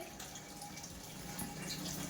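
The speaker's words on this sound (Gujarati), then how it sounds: "ફિલ્ટર ચાલુ કરી દીધું છે અને તેનું જે ડ્રેન પાઇપમાં પાણી નીકળે તે ડોલમાં ભરવાનું ચાલુ કર્યું છે" Water pours steadily into a container, a continuous splashing trickle with a slight hollow ring, close by and fairly quiet.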